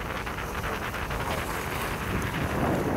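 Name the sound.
strong wind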